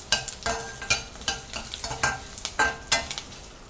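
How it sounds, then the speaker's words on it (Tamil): Curry leaves sautéing in a hot pan while being stirred, a steady sizzle broken by regular scraping strokes of the spatula, close and fairly loud with no talking. "இப்போ நம்ம கருவேப்பிலை போட்டுக்கலாம். இது ஒரு 30 செகண்ட் வரைக்கும் நல்லா வதக்கிக்கலாம்."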